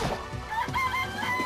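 A chicken in the Danganronpa video game gives a short run of loud, close clucks over background game music, with no voices.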